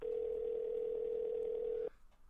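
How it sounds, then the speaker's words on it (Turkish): A steady electronic phone tone from the video game Sally Face hums continuously, loud and even, then cuts off abruptly near the end, leaving quiet background. "Telefonu aç Larry."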